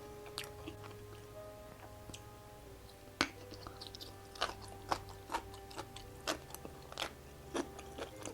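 Someone chews a sriracha dumpling dipped in sauce, close and fairly quiet, with scattered soft crunchy bites and wet squishes spread irregularly over several seconds, no talking.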